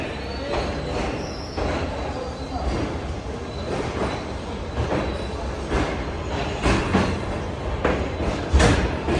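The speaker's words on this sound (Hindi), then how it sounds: "तो 11:09 पर तकरीबन 15 मिनट रुकने के बाद ट्रेन निकल रही है हैदराबाद जंक्शन से" Shah Hussain Express pulling out of Hyderabad Junction after a stop, a steady rumble of rolling railcars with rising clatter and a few sharp metallic bursts near the end, loud and continuous.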